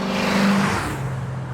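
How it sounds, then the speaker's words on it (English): Ford Falcon V8 accelerating on a freeway during a cruise, with a loud, continuous engine roar and road noise that rises briefly and then settles, heard from inside or close by. "Nothing like a V8 on the freeway."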